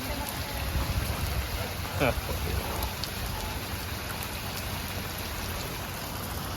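Steady rain patters over a swimming pool, a continuous broadband hiss with scattered drops and faint background voices.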